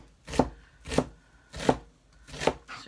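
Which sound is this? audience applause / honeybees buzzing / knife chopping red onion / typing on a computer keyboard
knife chopping red onion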